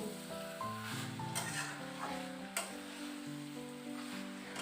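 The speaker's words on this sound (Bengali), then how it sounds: "চিনি বাদামটা দিয়ে আবারও বেশ খানিক্ষণ সময় নিয়ে এই উপকরণগুলোকে কষিয়ে নেবো" Mixed vegetables with spices and peanuts sautéing in a pan, a soft sizzle with a few sharp stirring clicks, quiet and close, while tonal background music plays throughout.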